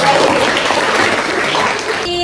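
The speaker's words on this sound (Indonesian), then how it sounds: "Kasih tepuk tangan untuk Bayu." Classroom applause in a biology lesson, a short burst of many hands clapping together, steady and fairly loud before tapering off at the end.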